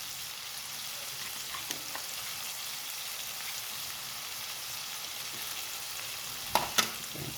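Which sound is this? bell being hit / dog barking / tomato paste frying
tomato paste frying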